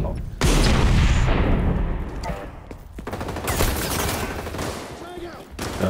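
Shotgun fire in the video game XDefiant booms out in several heavy, loud blasts with uneven gaps between them, while voices talk over the shooting.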